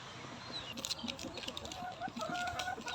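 Backyard chicks cheep in high, thin peeps, repeated irregularly across the whole stretch over a steady farmyard murmur, close and moderately loud with no talking.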